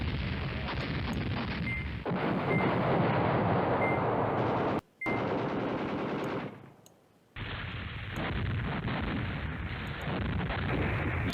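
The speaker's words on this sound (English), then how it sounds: "I need some artillery off." Artillery fire and machine-gun bursts in the wargame Command Ops 2, a loud, continuous roar of battle that briefly cuts out twice before resuming, with no talk over it.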